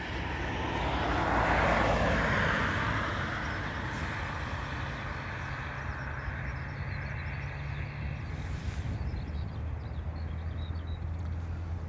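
A Ryanair jet airliner at Dublin Airport gives a broad engine roar that swells over the first few seconds, then settles into a steady, sustained rumble with no talk.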